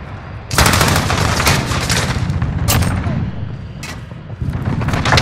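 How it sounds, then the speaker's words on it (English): Heavy gunfire from a Call of Duty: Modern Warfare team deathmatch on the St. Petrograd map, with loud, dense automatic bursts and booming impacts that pulse continuously and close by. "We're taking some fire."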